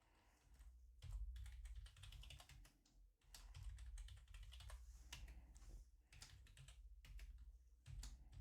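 Typing on a computer keyboard while filling in a registration form is steady and close, with continuous key clicks broken by a few brief pauses.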